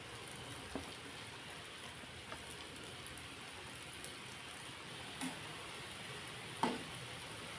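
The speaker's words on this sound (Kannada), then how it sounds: "ಈಗ ಇನ್ನೊಂದು ಒಬ್ಬೆ ಫ್ರೈ ಮಾಡ್ಕೊಳ್ಳೋಣ" Gulab jamun frying in oil over a low flame, a steady soft hiss and crackle throughout with a few small pops, fairly faint and with no voices.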